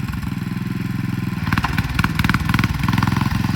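A 1967 Sears Super 12 motorcycle engine with a poorly tuned carburetor runs close by, a steady idle thrum that rises into rougher, uneven bursts as the throttle is blipped.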